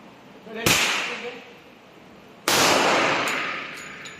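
Two sharp, loud shots from a stainless Colt Competition Series 70 .45 ACP pistol with a 5-inch barrel ring out about two seconds apart at close range, each cracking and then decaying, with faint background noise.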